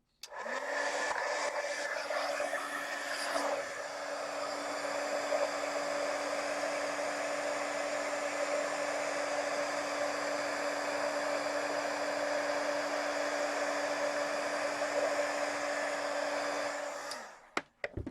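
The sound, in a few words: heat tool melting embossing powder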